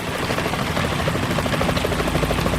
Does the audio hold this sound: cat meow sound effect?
no